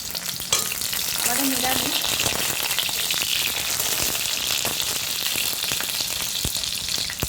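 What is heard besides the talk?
pointed gourds (potol) frying in oil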